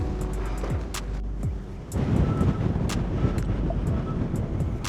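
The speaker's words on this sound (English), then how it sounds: "Oh, it's windy." Steady wind buffets the microphone with a heavy low rumble on a mountain summit by Lough Shannagh in the Mournes, gusting harder partway through, while faint clicks and a distant engine hum sit underneath.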